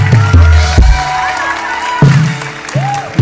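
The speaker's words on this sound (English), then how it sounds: "why don't you clap for yourself?" Church congregation clapping and cheering, a loud wash of applause mixed with shouting, whooping voices rising and falling in bursts.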